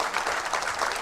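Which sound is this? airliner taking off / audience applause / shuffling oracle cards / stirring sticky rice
audience applause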